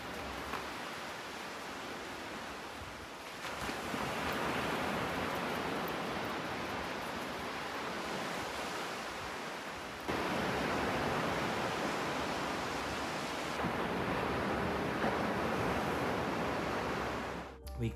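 Ocean waves wash steadily onto a beach, a loud continuous roar of surf that swells in distinct surges, with no voices.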